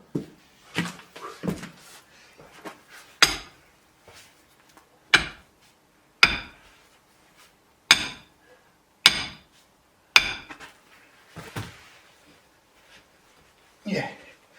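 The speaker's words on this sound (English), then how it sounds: "There's a rebar stuck in the ground. And what I'm doing, I'm just slightly tapping it" Rebar stuck in the ground being tapped from the sides, sharp metallic knocks arriving irregularly about once a second or two, close and fairly loud with quiet gaps between, with a voice speaking over some of the hits.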